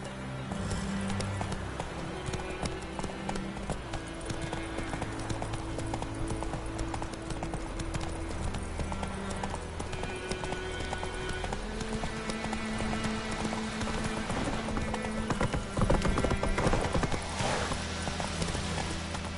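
Roach, Geralt's horse in The Witcher 3, gallops with a steady, rapid clatter of hooves over the ground, running continuously beneath an orchestral game score.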